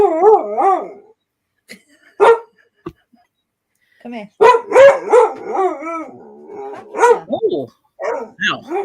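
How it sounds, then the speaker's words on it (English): A lurcher dog makes long, wavering howl-like vocalisations and yips close by, with a pause in the middle before a burst of rising and falling 'talking' howls and barks, while a person speaks briefly. "People say lurchers or other dogs don't talk unless it's a husky."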